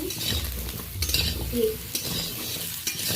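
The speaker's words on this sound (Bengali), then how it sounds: "ওতেই আমি ঝিঙেটাও ভেজে নেব হালকা করে" Ridge gourd frying lightly in oil in a wok, a steady close sizzle with occasional scraping and clinks of a stirring utensil against the pan.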